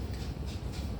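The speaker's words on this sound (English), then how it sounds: "My dryer's going" A household clothes dryer runs in the background with a continuous low tumbling rumble and faint hiss, steady and unbroken for about a second.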